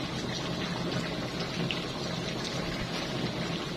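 Tamarind liquid poured into a cooking pot of sayur asem, Indonesian sour vegetable soup, giving a steady, close, continuous watery rush with no talk over it.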